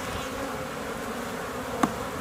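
Honey bees from a newly installed package buzzing steadily in and around a hive, a dense continuous drone close by with one brief knock near the end and no talking.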